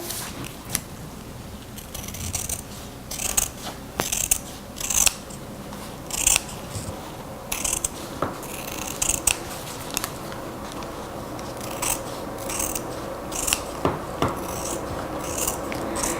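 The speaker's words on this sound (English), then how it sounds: "cut off this little stem-like thing that's on the side" Scissors snip the small stems off leaves being trimmed for Guatemalan tamales, making repeated close crisp cuts and soft rasping over a constant low room hiss, with no talking.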